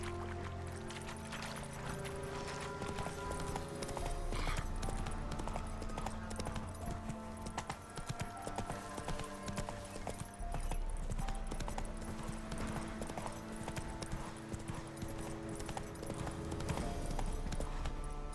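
A horse gallops in The Witcher 3, hooves clip-clopping in a fast, continuous rhythm close by, with steady game background sound beneath and no talk over the hoofbeats.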